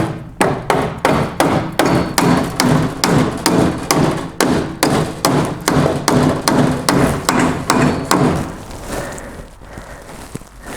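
Hammer knocking out a door hinge pin on a 1967-72 Chevy truck, about two dozen sharp metallic blows in a fast steady rhythm, close and loud, ending in quieter handling noise.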